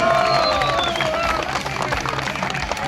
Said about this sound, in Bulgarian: Аплодисменти за лицата силни!